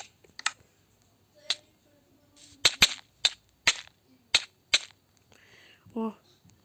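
A rapid series of sharp, cracking pops from plants shooting in Plants vs. Zombies fires at irregular intervals, loud and close, with faint game sounds and a brief tone between shots.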